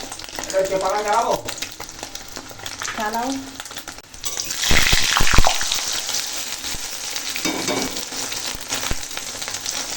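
Vegetables fry in a pan in a home kitchen, with a steady, fairly loud sizzle that surges midway as more food hits the oil. Brief voice-like sounds come early, and a clatter of stirring follows.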